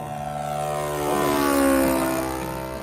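A light propeller aircraft in flight hums loudly and steadily, its engine tone swelling briefly toward the middle before easing back, with no talk over it.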